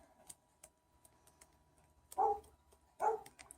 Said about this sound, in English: Hear my dog barking outside.